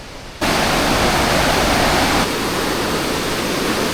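The Langtang river rushes through Langtang Valley, Nepal, as a loud, continuous white-noise roar that starts abruptly and holds steady, with no voices.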